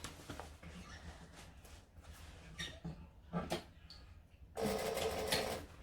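A sewing machine top stitching fabric starts with a few short, quiet bursts of handling noise, then runs in a dense, loud stitching whir for the last second or so.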